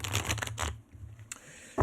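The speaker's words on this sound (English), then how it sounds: "let's give the cards a good shuffle and get into Piscean energy" Tarot cards shuffled by hand in a quick riffling run of papery flutters, a brief pause, then more shuffling up close with no talk.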